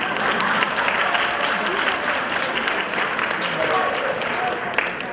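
Audience applause at a stage show, a dense continuous wash of clapping from many hands at moderate distance, with voices in the crowd underneath.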